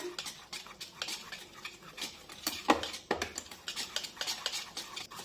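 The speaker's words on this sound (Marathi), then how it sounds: "आता हे व्यवस्थित मिक्स करून घेऊया." Ridge gourd bhaji batter with baking soda being mixed in a bowl, a spoon scraping and clinking irregularly, close and fairly soft, with no talk over it.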